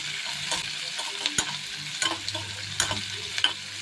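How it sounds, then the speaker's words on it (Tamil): Onions sauté in a frying pan for sambar rice with a soft steady sizzle. A spoon scrapes and stirs against the pan in several sharp clinks, close by and fairly quiet, with no talking. "ஒரு 2 செகண்டுக்கு அப்படி சும்மா வதக்கி விட்டுட்டு"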